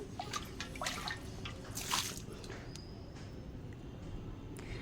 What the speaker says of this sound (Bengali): প্রথমে ভেতরের অংশের জলটা আমি ফেলে দিলাম